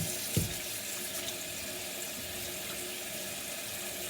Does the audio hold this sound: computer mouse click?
no